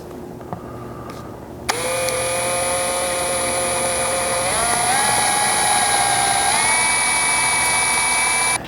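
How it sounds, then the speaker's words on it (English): A power drill with a 1/8 inch bit bores the first hole into a car roof, starting abruptly with a loud high whine that holds steady and steps down in pitch twice as the bit bites into the metal. "with just this 1/8 inch bit, making our first initial hole into the roof"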